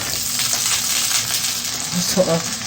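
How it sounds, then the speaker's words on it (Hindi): White cumin seeds sautéing in hot oil for a potato and capsicum dish, a loud close steady sizzle with light crackles throughout. "सफ़ेद ज़ीरा डालकर उसको ज़रा सोते करना है।"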